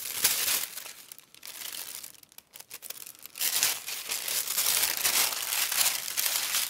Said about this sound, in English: I've got some packaging paper here.